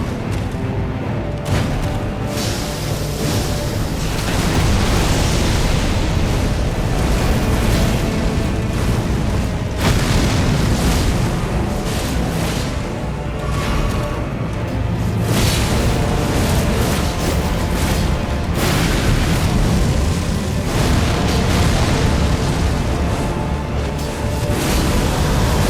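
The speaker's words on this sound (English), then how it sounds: "And I still forgot about the damn explosion." Booming boss explosion attacks from Mesmer the Impaler in Elden Ring: Shadow of the Erdtree, with loud, dense blasts and rumbling impacts recurring across the fight under sustained game noise and music.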